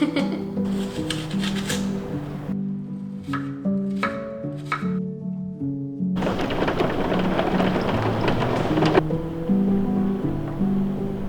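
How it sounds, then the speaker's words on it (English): Rain pours outside during a cozy autumn baking day at home, with rumbling thunder swelling into a loud, steady wash midway, layered under gentle background music. "I love that it just started raining all of a sudden."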